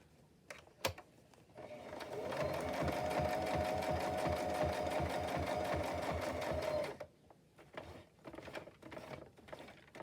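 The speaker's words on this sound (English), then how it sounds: "I try my best to get the zigzag stitch half and half in between the seams" A sewing machine runs a zigzag stitch across the seams of patchwork fabric. It drives steadily for about five seconds, then stops, with quieter handling noises before and after.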